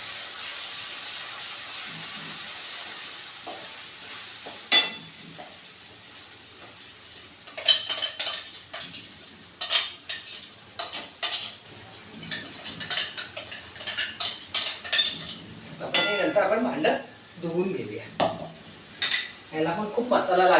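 Onion masala roasting in a pan for paneer curry, with a soft hiss of oil under repeated metallic clinks and scrapes of a spoon stirring against the pan, growing busier in the second half.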